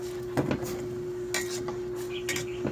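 A utensil clanks against a metal pot while stirring sinigang na bangus sa miso, a few sharp scattered knocks over a steady background hum.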